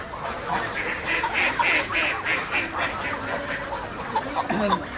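Many ducks quack continuously at a large farm with geese in Narayanganj, a dense overlapping flock chorus at moderate distance, with people talking underneath.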